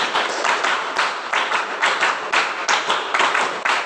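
A class of students claps together in a counted rhythm pattern of ones, threes and fives, repeated bursts of sharp group claps with brief gaps between, loud and close, with no talking.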